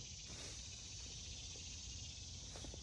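Cicadas drone in a continuous high-pitched buzz at a morning campsite in humid weather, a steady, even insect chorus with faint scattered background sounds and no talk.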